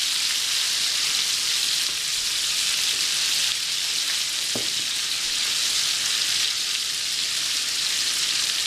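Meat sizzling steadily in a pan over high heat, a loud continuous broadband hiss of frying with one brief clatter midway and no talking.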